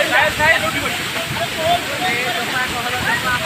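The waterfall at Deojhar pours in a steady, loud, close rushing roar of falling and splashing water, with voices talking over it.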